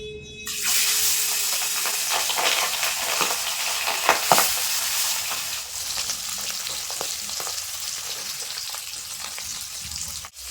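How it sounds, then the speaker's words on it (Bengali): Pieces of aar fish hiss and crackle in hot mustard oil, a loud dense sizzle starting after a brief quiet moment and continuing steadily throughout, with a few sharper pops and spatters. "তেল খুব ভালোভাবে গরম হয়ে গেছে এখন মাছের পিসগুলো দিয়ে দেবো"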